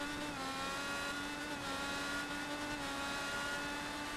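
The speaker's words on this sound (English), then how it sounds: "Really revving that engine out right now." IndyCar race car engine in iRacing on the Detroit Belle Isle street circuit, an onboard sustained high-revving whine held at full throttle, loud and steady with no talking.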